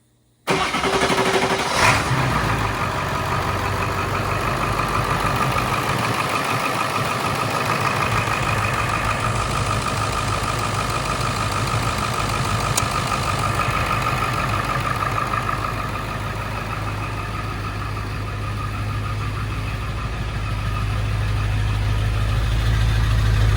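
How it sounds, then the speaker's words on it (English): A 7.3 diesel truck engine with a KC stage 1 turbo, shown indoors in a shop, cranks and starts, then settles into a loud, steady, close-up idle with a faint turbo whine throughout. "We're gonna crank her up now. Let her just idle for a minute."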